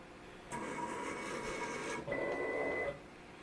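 A CNC machine's stepper motors whir as it travels back to origin, a quiet mechanical hum that rises for a couple of seconds, shifts tone briefly, then stops.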